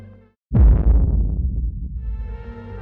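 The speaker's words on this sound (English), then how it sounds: "Now we have a very long reverb tail." A PVC-style kick drum hits once with a deep, thumping attack, then trails into a long, booming reverb tail that slowly fades as a soft tonal layer rises.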